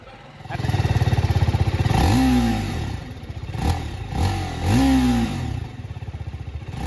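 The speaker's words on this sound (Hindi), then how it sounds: "Let's switch on this bike." A TVS Apache RTR 310 motorcycle engine fires up and settles into a loud, chugging idle, then revs sharply twice with rising roars before dropping back to idle.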